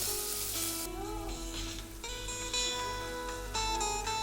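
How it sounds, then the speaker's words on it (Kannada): Onion, ginger-garlic paste and tomato fry in oil in a pan with a soft hiss and crackle, almost buried under loud tonal background music that shifts throughout. "ನೆಕ್ಸ್ಟು ಸ್ವಲ್ಪ ಟೊಮೆಟೊ ಹಾಕಿ ಸ್ವಲ್ಪ ಹಾಗೆ ಫ್ರೈ ಮಾಡ್ಕೊತಾ ಇದ್ದೀನಿ"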